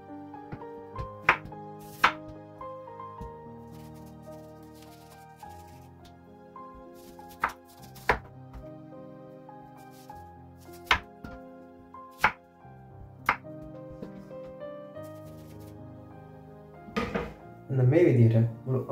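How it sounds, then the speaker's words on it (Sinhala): A whole mango being cut up with a knife for a mango lassi, giving a series of sharp, separate blade knocks on a board spaced a few seconds apart. Soft background music plays underneath, and a heavier clatter comes near the end. "මේ විදිහට මුළු අඹ ගෙඩියම කපලා දා ගන්නවා"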